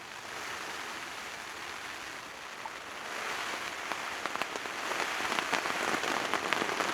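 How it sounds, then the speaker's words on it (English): Rain falling outside a tent in Cumbria, a steady patter on the fabric that builds in intensity, with individual drops tapping more sharply and densely toward the end. "I've never been so happy to hear rain."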